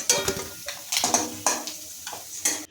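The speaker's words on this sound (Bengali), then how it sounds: "ওই তেলেই আমি ঝিঙেগুলো ভেজে নেব হাই ফ্লেমে" Ridge gourd slices fry in oil over a high flame, a light sizzle punctuated by about six sharp spatula scrapes and clinks against the pan at a steady, uneven rhythm, close and moderately loud.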